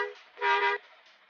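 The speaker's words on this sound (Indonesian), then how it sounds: "Coba klakson di setir." A bus horn sounded from the steering wheel in Bus Simulator Indonesia gives a short, bright, buzzy toot, then a louder sustained honk lasting under half a second, with a quiet tonal tail after.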